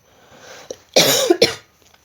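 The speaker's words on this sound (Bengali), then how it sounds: "খুব কাশি হচ্ছে।" A person coughs close by, a faint first hack followed by two loud, harsh coughs in quick succession.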